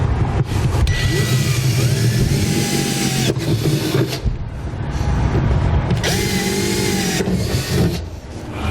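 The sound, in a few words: drilling pilot holes in Ford F truck bed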